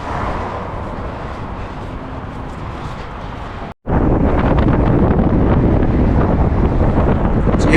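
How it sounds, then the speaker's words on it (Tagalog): Strong wind roars and buffets the microphone in a steady, loud rush while fishing, briefly cutting out before surging back even harder. "Lakas ng hangin"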